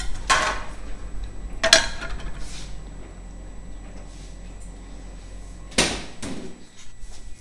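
A knife cuts through an onion on a cutting board, giving a few sharp, separate knocks against the board with quiet pauses between them, fairly close and alone.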